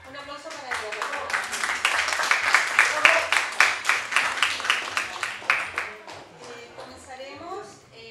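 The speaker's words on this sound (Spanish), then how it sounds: "Un aplauso para ella, por favor." An audience at a folk and street-art event at Clinic Bar applauds the teacher Andrea Antonio: a dense, steady burst of clapping that swells, holds for several seconds, then tapers off over a low background.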